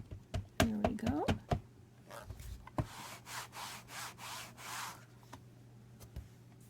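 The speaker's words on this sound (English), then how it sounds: "If you're wondering what I'm using as my pressing tool, it's just a dry eraser." A dry eraser used as a pressing tool is rubbed over paper for card making, producing short close scrapes and a run of soft rhythmic rubbing strokes with scattered taps, under a brief voice.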